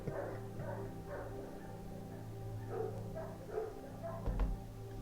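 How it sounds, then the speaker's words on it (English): German Shepherd dogs right outside a window give a few faint, muffled vocal bursts spaced across a few seconds over a steady low hum. "My dogs, I have German Shepherd dogs, and some of them are right outside that window, and they were howling."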